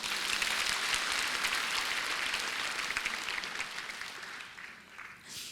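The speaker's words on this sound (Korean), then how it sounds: "전도왕 되시라고 박수 한번 부탁드리겠습니다." A church congregation at a Friday prayer service gives sustained, dense applause that stays steady, then fades near the end. No speech is heard over the clapping.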